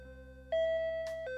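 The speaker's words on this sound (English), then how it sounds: "The doorbell rings as I get ready for school." A doorbell chime in the video game Shuffle! rings out clearly and alone, a sustained electronic tone that starts abruptly and holds steady for about a second.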